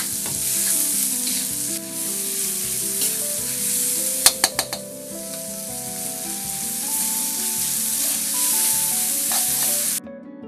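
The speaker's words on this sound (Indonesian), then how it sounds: "Tumis sampai bumbu layu dan berubah warna." Chopped garlic and shallots sizzle and fry in hot oil in a wok while being stirred for a spicy chayote stir-fry. The hiss is loud and steady, with a few sharp clinks of a utensil against the pan partway through and no talking.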